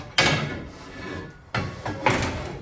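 A pull-out rear kitchen drawer slides and thuds shut twice, with short rolling scrapes between sharp knocks, close by with no talking.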